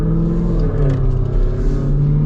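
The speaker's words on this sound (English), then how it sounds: "And the exhaust sounds so cool." A deep, throaty V8 exhaust rumble from a Jeep Grand Cherokee Trackhawk SUV, steady and loud up close, with a slight rise and fall in pitch.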